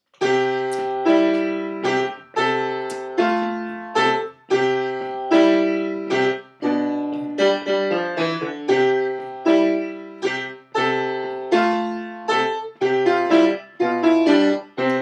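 Solo jazz piano plays a bouncy, syncopated cha-cha tune in short punchy chords, clear and close with no talking.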